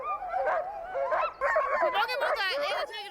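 Sled huskies on an Arctic road in Norway bark and yelp in quick overlapping bursts, close and excited, several dogs calling at once.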